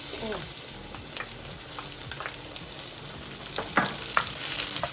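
Onions sauté in a pot with melted fat, giving a close, continuous sizzle broken by several short scraping stirs and clatters.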